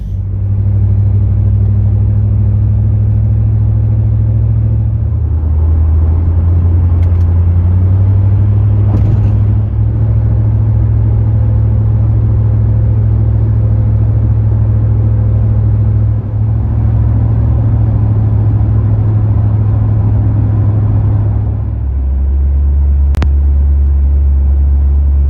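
A 1985 Cadillac Eldorado cruising along a road near West Vancouver, heard from inside as a loud, steady low engine rumble with smooth shifts in pitch as speed changes, no talking.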